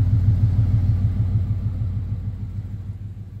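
A supercharged 2000 Harley truck engine idles after a cold start with a steady, close, deep rumble that eases slightly in loudness over a few seconds, with no talking.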